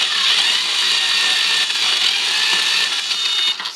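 A Ginour drain auger motor spinning in reverse gives a loud, steady high-pitched whir that holds evenly and dips slightly at the end, close and with no talking.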